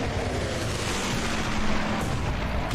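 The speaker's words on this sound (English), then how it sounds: "I want to carpet bomb all their veterans here" Carpet bombing in the video game Guns Up! sets off a dense, continuous roar of overlapping explosions that rumbles steadily without a break, loud and close, with no talking.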